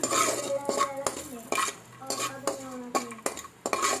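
Cashew nuts being roasted in a pan for a jackfruit seed dish, with repeated sharp metal clinks and scrapes of a spoon against the pan and a light sizzle underneath, close and fairly loud, no talking.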